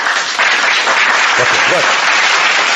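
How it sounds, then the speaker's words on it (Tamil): A church congregation at a feast-day Mass bursts into loud, sustained applause that fills the space evenly, with a few voices faintly mixed into the clapping. "நல்ல சத்தமா கைதட்டுங்க பார்ப்போம்."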